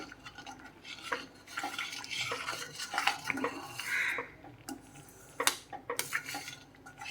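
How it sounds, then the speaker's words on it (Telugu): Wheat rava prasadam cooking in a pan and stirred now and then with a metal spoon, giving scraping and clinking strokes against the pan, close and moderately quiet, with no talking. "అడుగు పట్టకుండా ఇలా మధ్య మధ్యలో కలుపుకుంటూ ఉడికించుకోవాలండి"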